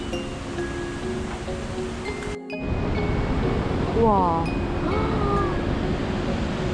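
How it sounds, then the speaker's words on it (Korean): A constant broad roar of rushing water from Iguazu Falls in Argentina fills the background while a person exclaims in wonder over it. "물소리만 엄청 들리는데 안 보인다"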